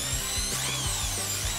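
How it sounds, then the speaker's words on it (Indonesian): An electric drill whirs in short repeated bursts with a rhythmic mechanical chatter, up close and fairly quiet, and no one talks. "Ayo tukar dengan bor elektrik."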